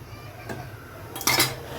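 Pulao being stirred in a pressure cooker after water is added, giving a few short metallic scrapes and clinks of a utensil against the pot, the clearest pair near the end, close and moderately loud.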